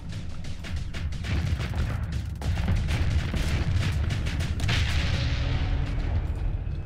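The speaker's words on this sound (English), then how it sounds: "That explosion that you just saw when the ship is defeated, that does damage too" Ship destruction blast in the space combat game Starsector, a dense sustained rumble of booming explosion noise with broadband crackle, loud and continuous for several seconds with no talking.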